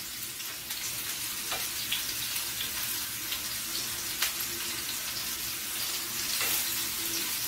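Spice-rubbed pork chops frying in hot oil in a pan, giving a steady, bright hiss and sizzle throughout with scattered pops and crackles, close and fairly loud.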